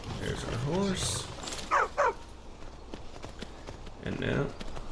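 Horse hoofbeats while riding in the video game Skyrim: soft, irregular clopping of hooves with horse snorts and whinny-like calls, heard fairly quietly among other game sounds.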